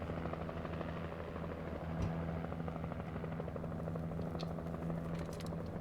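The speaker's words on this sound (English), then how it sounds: "helicopter." Helicopter from the video game Alan Wake flying overhead, a steady rotor thrum held continuously throughout with no speech.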